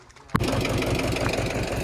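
A tractor engine turning over and catching abruptly, then settling into a rough, chugging idle, close and moderately loud, with no talking.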